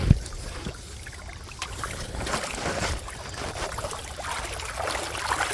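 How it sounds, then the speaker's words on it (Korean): Water sloshes and splashes as a large fishing keepnet holding crucian carp is lifted, giving irregular close-up trickling and splashing bursts throughout. "이야, 물소리가 틀립니다."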